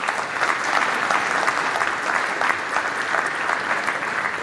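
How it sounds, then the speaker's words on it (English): An audience at an Indian agricultural innovation conference claps steadily in a dense, sustained wash of applause, without breaks, heard from inside the crowd. "Can we have a huge round of applause?"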